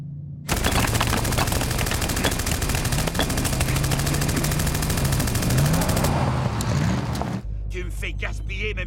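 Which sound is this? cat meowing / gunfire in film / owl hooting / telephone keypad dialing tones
gunfire in film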